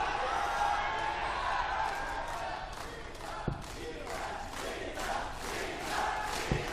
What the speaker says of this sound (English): the crowd getting behind Peter Wright